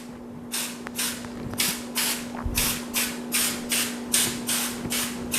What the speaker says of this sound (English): Just spray it a little bit like that.